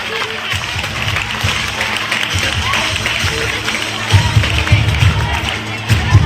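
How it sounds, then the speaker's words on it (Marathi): Audience at a school prize-giving ceremony claps in a sustained, lively patter that swells louder toward the end, with crowd murmur and voices mixed underneath. "टाळ्या इथपर्यंत ऐकायला यायला पाहिजे"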